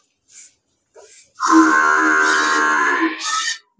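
A Murrah buffalo lets out one long, loud, close moo lasting about two seconds, after a couple of brief soft grunts, during a milking session.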